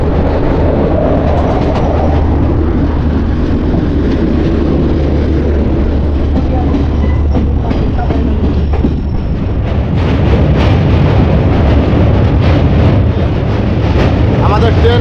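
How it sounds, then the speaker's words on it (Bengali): The Teesta Torsa Express pulls out of Naihati Junction station with a loud, continuous rumble of wheels and carriages that rises slightly as it gathers speed. "আমাদের নৈহাটি জাংশন স্টেশন থেকে ছেড়ে দিল আমাদের তিস্তা তোরসা এক্সপ্রেস।"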